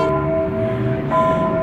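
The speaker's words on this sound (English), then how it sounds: "that church bell's going off" A steady church bell tone rings through busy outdoor ambience in Mexico City, with a brighter strike near the end over a low rumble of traffic.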